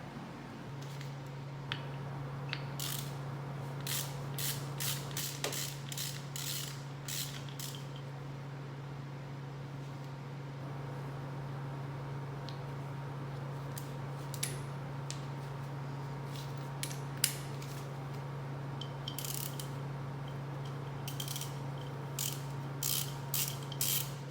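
Ratchet wrench with a 17 mm socket clicking in several quick bursts as dirt bike engine inspection caps are loosened, close and crisp over a steady low hum, with pauses between bursts and no talk.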